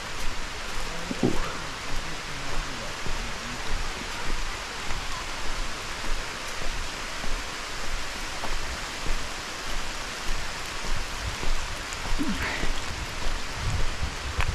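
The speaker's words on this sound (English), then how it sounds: "The rain has picked up a tiny bit. It's a light drizzle now" Light drizzle falls on a forest trail in Cuyahoga Valley National Park, a soft steady hiss of rain pattering on leaves and ground, with a few faint birdcalls now and then.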